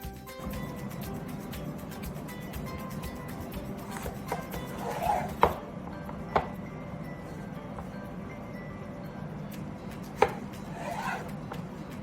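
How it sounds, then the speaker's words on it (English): A knife chops vegetables such as peppers on a cutting board with scattered sharp knocks spread through a steady kitchen hum, a few strikes standing out louder. "If you're cutting vegetables with a shiny skin, like peppers"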